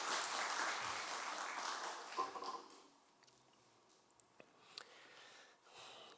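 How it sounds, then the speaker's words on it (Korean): A church congregation at Sunday worship applauds for a children's choir, a moderate wash of clapping that fades out after about two seconds, leaving a quiet room with a few faint knocks. "우리 아동부 아이들을 위해서 큰 축복의 박수 다시 한번 보내겠습니다."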